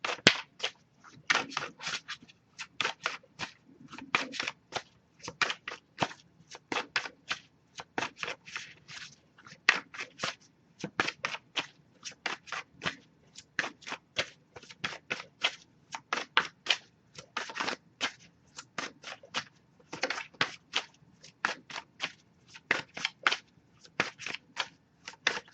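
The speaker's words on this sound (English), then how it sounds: "if I shuffle for a while without anything coming up, I'll just go on to the next deck." A tarot card deck is shuffled over and over, giving crisp riffling bursts and sharp snaps in quick, uneven clusters, close and clear against a quiet background with no talk.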